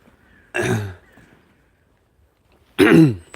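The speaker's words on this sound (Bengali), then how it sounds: "গলায় হালকা খুশখুশ কাশির মতো অবস্থা আর কি" A throat-clearing cough sounds twice, close and fairly loud, with a short pause of quiet between the two bursts.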